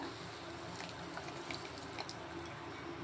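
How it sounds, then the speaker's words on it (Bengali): Milk poured into a bowl to soak semolina and dried fruit for a halwa, a steady soft liquid trickle and splash running throughout with no talk. "এবারে 3 কাপ দুধ থেকে কিছুটা দুধ ওখানে ঢেলে দিচ্ছি ভিজানোর জন্য"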